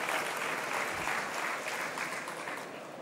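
Conference audience applauding at a talk on the Metaverse, dense, continuous clapping from a full room, steady and fairly loud, tapering slightly toward the end.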